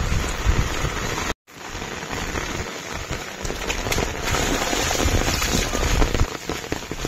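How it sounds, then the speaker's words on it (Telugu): Heavy rain pours steadily over a village, a dense continuous hiss of drops on surfaces with a brief dropout near the start, no voices. "సో తగ్గుతుందేమో చూసినా వర్షం అయితే తగ్గుతలేదు."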